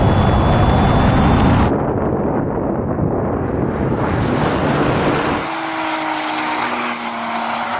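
Roaring engine and wind rush from a Porsche 911 Turbo, a 993 generation among several 911 Turbo generations, launching hard in a drag race. The noise is loud, dense and continuous, drops to a lighter pitch partway through, and no one speaks.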